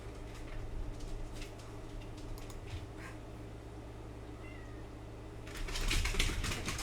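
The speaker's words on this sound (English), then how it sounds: "you guys leave the cat alone." A house cat meows a few times indoors, the cries fairly soft against a low background hum before louder rustling near the end.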